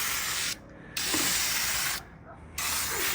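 Close aerosol spray paint lays the first coat on a custom Jeep WJ stubby bumper, hissing in three loud sustained bursts separated by short gaps.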